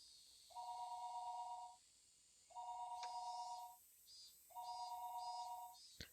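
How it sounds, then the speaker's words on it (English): Telephone ringing in the Higurashi video game: three long, loud electronic rings in a steady repeating pattern, with fainter chiming tones in the background between rings and no talk. "It's the phone."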